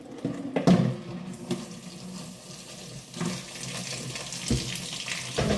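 Water runs from a household tap into a sink in a steady, close gush, with a few clunks of dishes or handling mixed in.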